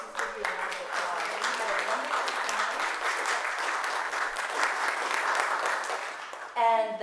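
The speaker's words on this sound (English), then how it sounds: "let's just give you a round of applause" A church congregation gives a sustained round of applause for Vacation Bible School volunteers, a steady wash of many hands clapping at moderate volume, with a voice starting up briefly at the very end.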